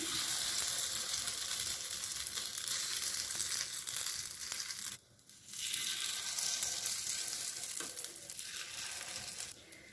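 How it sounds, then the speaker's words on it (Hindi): Spoonfuls of vermicelli-yogurt batter sizzle in a lightly oiled appam pan, a steady close crackling hiss that briefly dips midway before resuming. "तो अब हम इसमें से 1-1 चम्मच घोल लेकर के इसमें डाल देंगे।"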